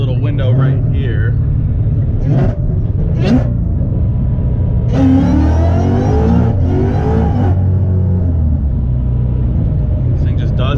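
A car engine revving hard and accelerating on blacktop, a throaty rumble with rising surges of revs, heard close and loud while people talk over it.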